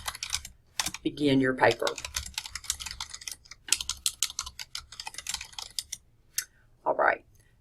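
Clicks from a computer keyboard in a rapid run of taps while typing up a paper, close and crisp, with a voice speaking over parts of it.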